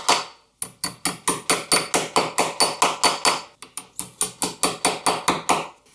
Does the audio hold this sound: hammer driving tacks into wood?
yes